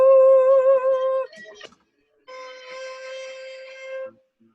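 A cello plays one high sustained C, stops briefly with some soft handling noise, then sounds it again for a couple of seconds.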